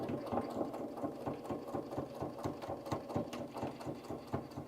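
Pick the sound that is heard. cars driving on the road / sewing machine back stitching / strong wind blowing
sewing machine back stitching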